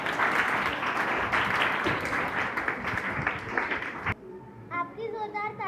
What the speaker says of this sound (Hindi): आप सिमरन पाल के लिए ज़ोरदार तालियां बजाएंगे।